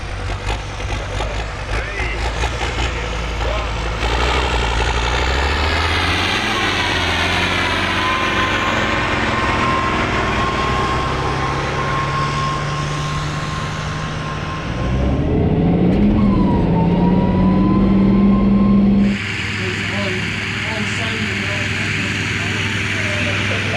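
Tractor pull engine roaring loud and close in one long sustained run, pitch climbing as it strains down the track, with a sharp shift near the end, then rough droning and crowd noise.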